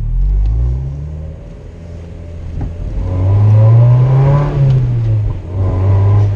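A Mazda MX5 NC 2.0 with the BBR 200 upgrade, its engine and exhaust heard from close by as it cruises, then revs up into a loud rising drone before easing off and pulling again.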